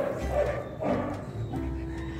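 Several dogs bark at an outdoor dog rescue, fairly loud overlapping barks in irregular bursts with a steady background murmur.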